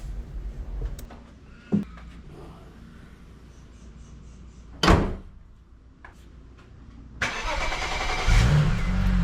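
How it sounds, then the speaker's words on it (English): A car door thuds shut, then a BMW E93 335i engine cranks and roars to life, settling into a steady idle close by. "we like to start the car and test before reassembly"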